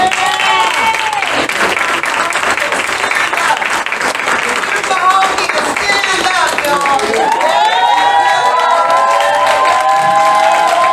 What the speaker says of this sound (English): So if you guys could give them a warm round of applause.